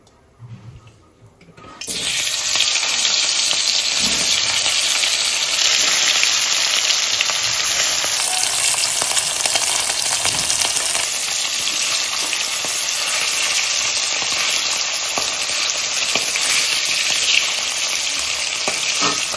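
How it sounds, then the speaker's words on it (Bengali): Hilsa fish frying lightly in a pan, a loud steady sizzle of hot oil that starts abruptly after a brief quiet moment and continues evenly, close by, with no talk. "এখন হালকা করে ভেজে নিচ্ছি, বেশি কড়া ভাজা দিইনি"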